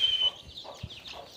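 On an early-morning desi poultry farm, hens and chicks give faint, high peeping chirps and a few soft clucks in short scattered bursts at close range.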